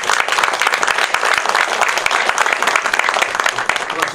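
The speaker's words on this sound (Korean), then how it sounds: "고생하셨다는 박수 한번 주십시오." Sustained, dense audience applause at a Lions Club presidents' installation ceremony, honoring the outgoing club president; loud, steady clapping from a crowd throughout.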